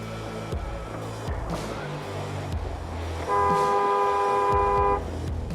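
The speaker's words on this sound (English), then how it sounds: "He honked at her" A car horn blares in one sustained honk for about two seconds, loud and near, over the rumble of passing traffic.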